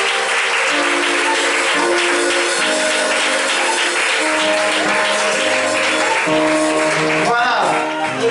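An audience applauds and cheers to welcome a couple, a dense continuous wash of clapping with voices and tonal sounds layered over it, loud and sustained.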